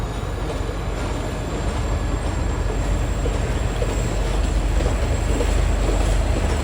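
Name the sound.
train departing station towards Colombo Fort, Sri Lanka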